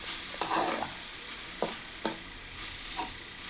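A pan of anchovy (nethili) thoran is stirred, giving a soft, steady sizzle with a few separate scraping strokes of the spoon spread across the clip, quiet and close, with no voices.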